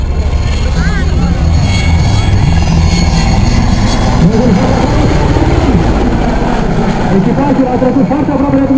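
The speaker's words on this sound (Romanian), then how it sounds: "Pentru a savura din plin cele două motoare turbomeca" A Romanian Air Force IAR 330M Puma helicopter with two Turbomeca engines makes an air show flypast at Otopeni, its loud continuous rotor and engine roar running under a commentator's voice the whole time.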